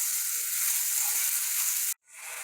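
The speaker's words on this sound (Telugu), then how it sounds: "బీరకాయ ముక్కలు ఒక 5 నిమిషాలు మీడియం ఫ్లేమ్లో పెట్టుకుని వేయించుకోవాలి." Ridge gourd pieces fry in a pan over a medium flame with a steady, close, hissing sizzle that cuts out abruptly near the end and then resumes slightly quieter, with no talking.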